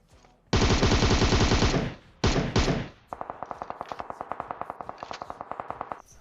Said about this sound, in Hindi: गोलियों की ऐसी तैसी हो रखी है